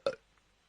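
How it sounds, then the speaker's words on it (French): A single short, throaty burp erupts close and alone, lasting a fraction of a second before fading into quiet background hiss. "Il a fait un rot."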